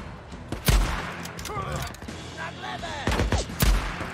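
Rifle gunfire in a survival video game with infected and survivor camps, a few sharp loud shots spaced apart amid game ambience, with brief voices and chatter between them.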